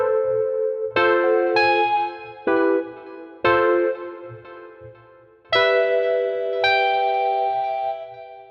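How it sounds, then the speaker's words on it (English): Mellow electric piano plays a slow sequence of chords, each struck cleanly and left to ring and fade, with soft low notes beneath. "TP UKG real electric piano"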